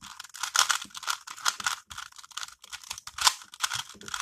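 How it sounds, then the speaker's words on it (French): A 3x3 Rubik's Cube being scrambled by hand, with rapid plastic clicking and clacking in dense, uneven bursts, close and steady throughout. "on va tout de suite commencer par le mélanger"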